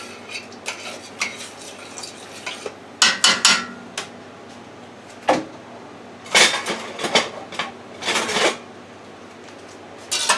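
A utensil stirs sour cream into mac and cheese in a dish, making irregular bursts of scraping and clinking against the container, with some louder clusters separated by brief pauses.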